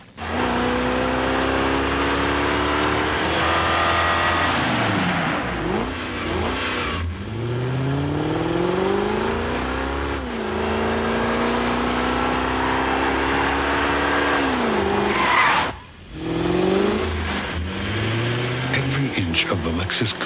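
Lexus coupe engine revving and accelerating through several gear changes, loud and close, with rising and falling pitch, a brief drop near the end and a sharp burst like tire squeal, over a continuous roar.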